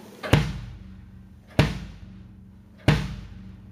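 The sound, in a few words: bass drum hit with plastic beater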